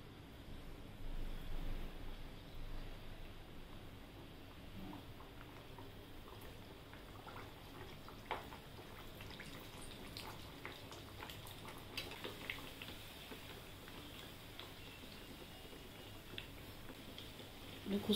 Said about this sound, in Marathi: आता आपण त्याच्यात आपण आता कचोरी टाकून तळून घेऊया